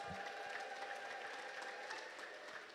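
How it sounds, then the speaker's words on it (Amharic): Protestant congregation applauding during a sermon, dense steady clapping filling the space throughout, with bright sustained tones above it that may be ululation; no speech over it. "እስኪ ልልታና ጭብጨባ ስጡት ለጌታ"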